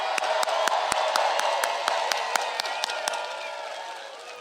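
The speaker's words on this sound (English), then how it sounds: "Can we give them a round of applause?" A crowd at an outdoor Trump rally in Coachella, California claps and cheers for veterans and first responders, with sharp distinct claps over a diffuse crowd roar that fades gradually over a few seconds.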